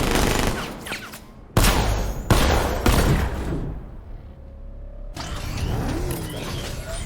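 In Batman: Arkham Knight, a riot suppressor gun lets off rapid, loud bursts of fire, sharp cracking volleys followed by quieter mechanical whirring and rattling.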